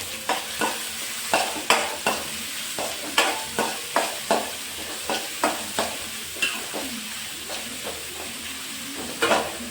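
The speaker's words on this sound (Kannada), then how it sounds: "ಇದನ್ನು ಹಾಕಿ ಫ್ರೈ ಮಾಡ್ತಾಯಿದ್ದೀನಿ" About four finely chopped medium onions fry in a pan for pepper chicken, a steady sizzle broken by frequent scraping stir strokes, close and fairly loud with no talking.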